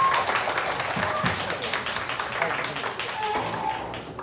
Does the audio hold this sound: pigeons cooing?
no